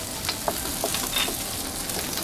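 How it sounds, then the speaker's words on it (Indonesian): Bird's eye chilies sauté in hot oil with garlic, shallots and ginger, giving a loud, dense, continuous sizzle with a few light stirring scrapes. "Cabai rawit tumis layu"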